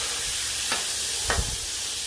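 Baby back ribs sizzle in oil on a Blackstone griddle, a steady bright hiss with two brief scraping stirs as the meat is moved around.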